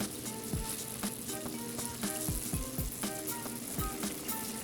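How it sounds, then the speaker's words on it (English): Tomatoes sizzle and fry in a hot pan of sautéed garlic, a steady crackling hiss broken by recurring clicks and light knocks, fairly quiet and close with no voices. "First thing I'm going to add is add these tomatoes."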